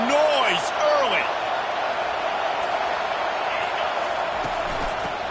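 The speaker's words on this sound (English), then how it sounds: "This crowd bringing the energy and noise early." Stadium crowd roar from a college football video game, Clemson hosting Fresno State, a loud steady wash of cheering noise that holds throughout with brief rising whistle-like tones near the start.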